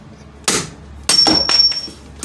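Metal clanks of a hammer driving a punch to knock a part loose while working on the power steering pump of a 2007 Pontiac Grand Prix, several sharp close strikes with brief ringing between them.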